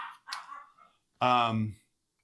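Pet dogs play at home, and one lets out a single drawn-out harmonic bark or yelp after a moment of quieter background sound.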